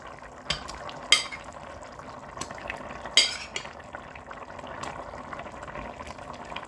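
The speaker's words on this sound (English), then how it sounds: "we're going to add in our macaroni and cheese just right on top" Dry macaroni pasta dropped into a pot of boiling water, with a low rolling boil hiss throughout and a few sharp clattering pours and splashes, moderately close.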